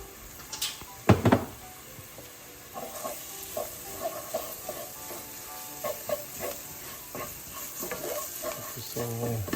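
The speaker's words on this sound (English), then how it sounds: "Try and get the flour all stirred in." Flour is stirred into onion and garlic sizzling in a pan as a green chile sauce gets underway. A spoon scrapes and clatters over a steady frying hiss, with a few sharper knocks near the start.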